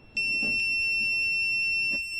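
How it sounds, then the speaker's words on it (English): A multimeter continuity test beep, a continuous high tone sounding for about two seconds with faint handling clicks underneath, close and clear, while checking an oven fault. "If I touch this now, it beeps."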